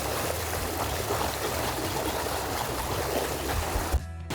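Running river water flowing over rocks, a steady, close broadband rush that continues without a break and ends with a brief bump and sudden cutoff.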